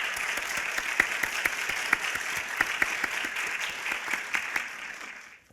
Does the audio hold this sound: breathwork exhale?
no